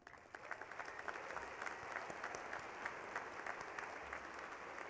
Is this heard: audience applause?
yes